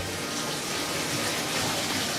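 Water runs steadily from a tap into a bathtub, a continuous broadband splashing rush that stays even throughout, moderately quiet and heard without voices.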